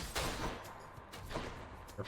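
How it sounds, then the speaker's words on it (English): Muffled explosions from the video game Hades burst in quick succession, several soft booms spread across the moment at low volume. "Careful with those explosions."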